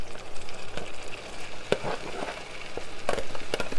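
Saltfish frying in a pan with seasoning gives a steady close sizzle, with occasional sharp pops and scrapes of stirring.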